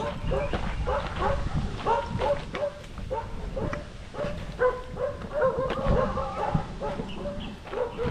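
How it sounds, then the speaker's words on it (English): Dogs bark and yip in short bursts during a neighborhood walk in a barangay, moderately close, mixed with people talking nearby. "He's usually the dog that keeps the other dogs away from us."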